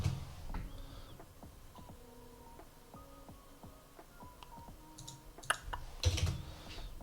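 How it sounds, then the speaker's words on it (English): Fingers type on a computer keyboard in a quiet room, producing a soft, uneven run of light clicks and taps at close range, with a couple of sharper clicks near the end. "You'll type in Integromat."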